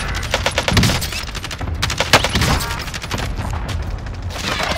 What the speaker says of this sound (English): someone's throwing a nade at us